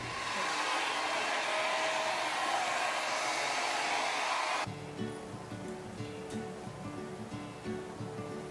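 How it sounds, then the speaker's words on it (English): A hair dryer blows steadily and loudly for about four and a half seconds, drying hair, then cuts off, leaving a quieter room with faint handling noises and low murmurs. "I blow dried it."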